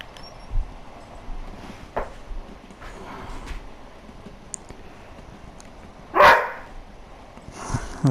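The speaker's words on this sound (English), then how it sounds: "That's my dog barking in the background." A dog barking in the background while a train simulator runs on a PS4 Pro, several short, sharp barks at irregular intervals with one louder bark near the middle, over a low steady hum.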